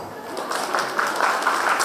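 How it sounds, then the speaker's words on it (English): An audience at a college day event applauds for a couple of seconds, the clapping dense and steady, somewhat distant and spread across the hall. "A round of applause?"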